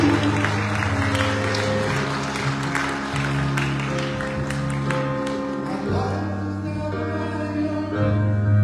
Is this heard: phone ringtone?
no